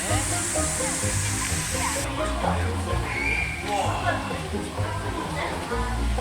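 A loud, steady roar of a waterfall fills the scene at a dinosaur theme park in Jeju, with people talking over the constant rush.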